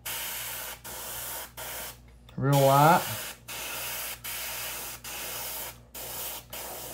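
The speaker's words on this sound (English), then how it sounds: "I'm gonna go right here on my scales and spray this" An airbrush sprays color-shift paint onto the scales of a crackle shad fishing lure in short, regular hissing bursts separated by brief gaps, with someone talking briefly between bursts.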